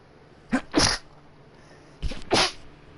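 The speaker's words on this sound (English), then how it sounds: "wet sneeze both for my nose and my mouth" A wet, spluttering sneeze from both nose and mouth, heard as two sharp bursts, each with a quick intake before it, close and fairly loud against a quiet background.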